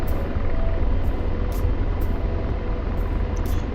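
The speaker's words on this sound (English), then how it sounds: "we got to fly a helicopter for a little bit tonight" A helicopter flies over Aleppo in a video game, its rotor making a loud, steady drone with soft periodic whooshes and no talk.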